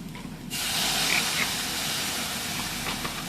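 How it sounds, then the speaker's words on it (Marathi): After a brief quiet moment, a sudden loud hiss erupts as water hits ground spice paste in a hot kadhai for mutton curry, then settles into steady sizzling steam. "त्याच्यात पाणी पण टाकूया"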